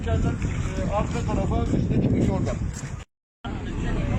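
A tour boat on the Bosphorus in Istanbul rumbles steadily, with wind buffeting the microphone and people talking over it nearby, then a brief cut to silence.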